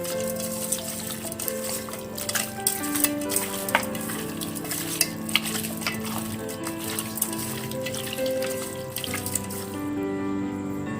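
Steady running water splashes into a sink as raw chicken is washed, with occasional clinks and rubbing, continuous and close throughout.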